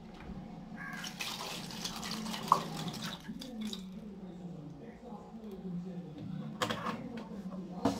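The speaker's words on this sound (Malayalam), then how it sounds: "വിനീഗർ ചേർത്ത് കൊടുക്കണം അത് ഒഴിച്ചു കൊടുക്കാം വിനീഗർ ഒഴിച്ചു കൊടുക്കാം" Synthetic vinegar is poured over gas stove burner parts in a container, giving a soft steady trickle and splash under continuous talking, with a few small clinks.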